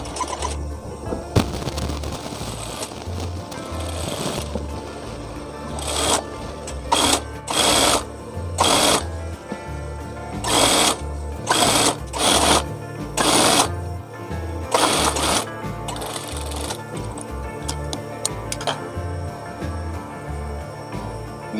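Close sewing machine stitches the folded 1 cm hem of a round-collar gamis dress in repeated short bursts of rapid whirring separated by pauses, with faint handling sounds between runs.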